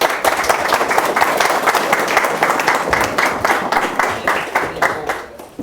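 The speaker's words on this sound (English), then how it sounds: "Give him an applause." An audience applauds an airshow pilot being introduced before his talk on flying a MiG-17F jet. Dense, lively clapping fills the room at full strength, rising and falling slightly and tapering near the end.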